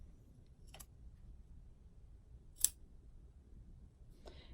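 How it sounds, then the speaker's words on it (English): Scissors snip into fabric for pants pockets: three sharp, separate cuts a couple of seconds apart, close and crisp against a quiet room. "to cut into fabric for zippers and pockets and stuff like this"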